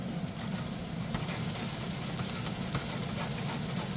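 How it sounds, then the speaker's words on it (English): Steady sizzling of cabbage frying in a pan, a constant crackling hiss with no pauses. "You want a nice sizzle on that?"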